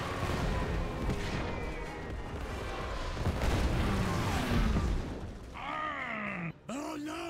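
Bombing explosions in a video game, a run of heavy rumbling booms and blasts over several seconds, followed by brief whooshing game sound effects near the end.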